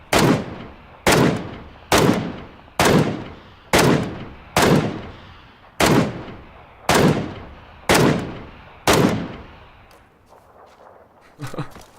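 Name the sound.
gunshots in the video game PUBG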